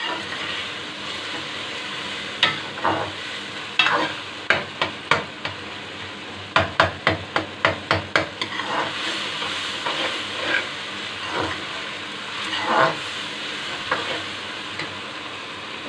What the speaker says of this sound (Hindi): टमाटर डाल के इसको थोड़ा पकाएंगे कि थोड़े से सॉफ्ट हो जाए टमाटर